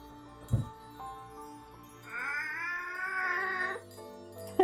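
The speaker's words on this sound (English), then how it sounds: "Sorry about my cat, guys." A pet cat gives a long, drawn-out wailing meow, loud and close, sustained for a couple of seconds after a brief soft chirp, with faint background tones underneath.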